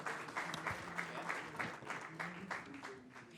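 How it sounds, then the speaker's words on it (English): An audience at the CHOGM Rwanda 2022 People's Forum session claps for a speaker. The applause is soft, distant and steady, with a dense patter of many hands lasting a few seconds. "Round of applause for her."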